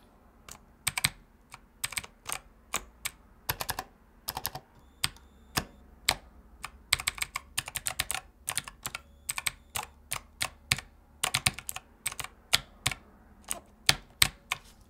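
Crisp mechanical gaming keypad keys click and clack in irregular bursts during gameplay, sometimes rapid flurries, sometimes single taps, close up with a faint background hum.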